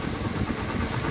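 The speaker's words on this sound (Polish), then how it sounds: "dziwne odgłosy w silniku. Jest to silnik 1820V Volkswagena, symbol silnika ADR." A Volkswagen 1.8 20V ADR engine with worn viscous fan clutch bearings runs steadily up close, giving a continuous mechanical drone with faint rubbing and knocking texture.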